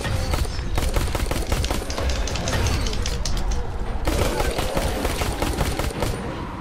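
Gunfire in the video game Dying Light, loud rapid bursts of shots crackling nearly continuously, dense and close, with a brief lull and then more firing, voices occasionally mixed in.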